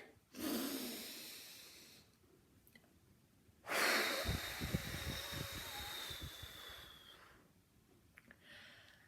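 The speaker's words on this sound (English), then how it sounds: "Big breath in." Several children in a primary school speech and drama class take a deep breath in, then blow out in a long gusty exhale, heard close and fairly loud with a short pause between breaths.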